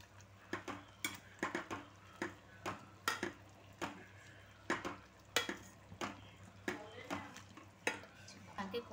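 A masher thuds repeatedly into fried vegetables in a pan while pav bhaji is being made, a steady rhythm of soft, squelchy knocks against metal, fairly quiet, with a faint sizzle underneath.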